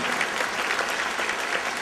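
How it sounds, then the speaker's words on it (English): A steady, even round of applause from the crowd at the Fall River mayoral inauguration, continuous clapping throughout with no voices over it. "They deserve applause, sure."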